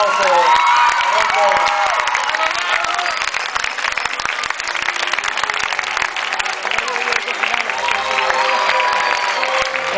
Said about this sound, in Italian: E io farei un grande, grande, grande applauso.